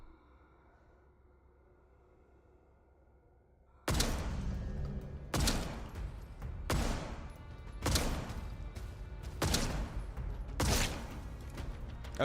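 Sniper rifle gunshots in the video game Atomfall: after a quiet stretch, six loud, sharp shots ring out at steady intervals of roughly a second and a half, each with a short echoing tail, and no voices.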